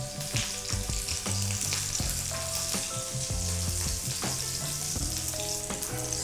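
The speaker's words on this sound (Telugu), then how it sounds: "స్లోగా కదిపించుకుంటే సరిపోతుంది, స్లోగా అటు ఇటు జరిపేయాలి" Stuffed okra fries in a pan while it is stirred slowly, giving a close, steady sizzle broken by soft scraping and shuffling knocks from the stirring, with no voices.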